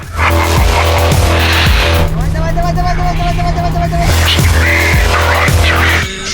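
Hybrid cars, a Toyota Prius and a Honda Shuttle, racing on a wet track in Yakutia. Engines and tires roar loudly and close throughout, with a steady whine in the middle section and a voice speaking over them.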